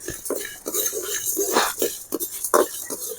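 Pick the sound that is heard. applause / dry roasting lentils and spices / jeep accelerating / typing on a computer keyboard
dry roasting lentils and spices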